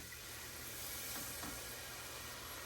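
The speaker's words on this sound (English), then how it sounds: "you're going to come with your half and half and your milk and slowly add it" Half and half and milk poured slowly into a hot soup pan, a soft rushing pour over a steady background sizzle and hiss, briefly louder midway, close and alone without talk.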